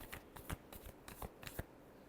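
Tarot cards being shuffled in quick riffling bursts, a run of soft papery flicks and snaps at uneven intervals, close and fairly quiet with no talking.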